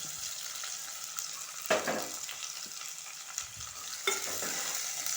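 Onion pieces sizzle and fry in a pan for chicken curry, a steady close hiss with a few louder scraping stirs of the spoon, no voices.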